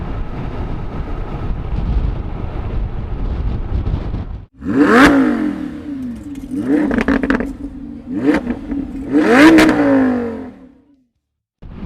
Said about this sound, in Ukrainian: На мотоциклі саме те, що треба дуже приємно їхати